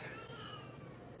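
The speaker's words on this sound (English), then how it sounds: "that's my kitty meowing" A pet cat meows faintly in a quiet room, a short soft call against steady background hiss.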